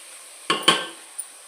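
A spoon scrapes and clanks twice against a pan while stirring a meal maker (soy chunk) biryani mixture as it fries, followed by a faint tap; nearby and without speech.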